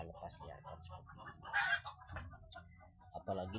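Free-range village chickens cluck in irregular bursts with a brief louder call midway, surrounded by faint outdoor farmyard noise.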